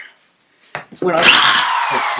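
A power drill whirs up into a hole, preceded by a few quiet handling knocks, then runs loud and steady close up for about a second.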